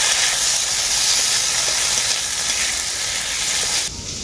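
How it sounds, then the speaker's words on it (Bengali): Potatoes fry with cumin paste in a pan, giving a steady bright sizzle and hiss that holds evenly, then drops off abruptly near the end. "জিরে বাটাটা দিয়ে আলুগুলোকে আমি খুব ভালো করে কষিয়ে নিয়েছি"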